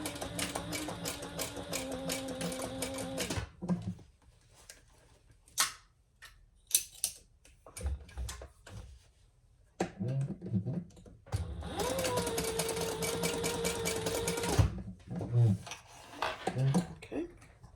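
Sewing machine top stitching a fabric clutch in two loud, rapid whirring bursts separated by quiet handling clicks and rustles.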